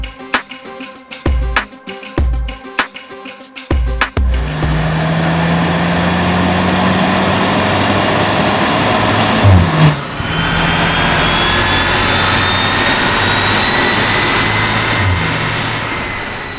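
A Skoda Octavia vRS engine on a dyno: a few sharp revs first, then a long, loud sustained pull with rising engine pitch, a brief dip and a steady high roar to the end.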